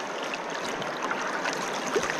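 Water streams steadily into an ultralight silicone-impregnated nylon water bag outdoors, a continuous close trickling and gurgling with no talk.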